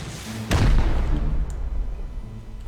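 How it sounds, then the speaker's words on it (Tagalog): Single heavy gunshot in the survival game Rust, a loud close boom with a rumbling tail that fades into the game's background noise. "Putok."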